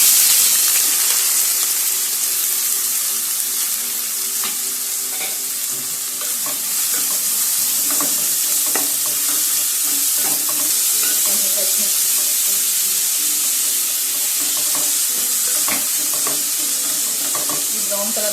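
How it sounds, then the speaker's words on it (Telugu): Finely chopped onions frying in hot oil in a pot, a steady loud sizzle and hiss with occasional stirring clicks and scrapes throughout, no talking. "అది వేడెక్కాక సన్నగా ఫైన్ చాపుడ్ చేసుకున్న ఉల్లిపాయలు వేసుకోవాలి."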